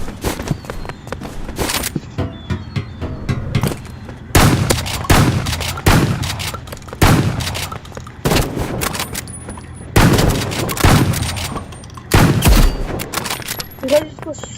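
Shotgun blasts and rocket launcher fire in the Roblox game Rivals, loud booming shots landing in rapid clusters and single heavy bangs, with a voice talking over parts of the action.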